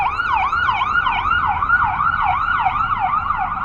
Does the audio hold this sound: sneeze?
no